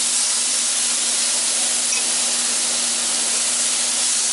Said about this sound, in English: I just got it in here on a pan and just kinda cook them up a little bit more after I cut them up